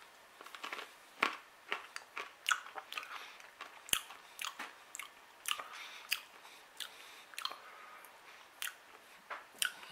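Close, crisp biting and crunchy chewing on roasted acorn nut meat, an irregular run of quiet crackling bites and chews with no talk.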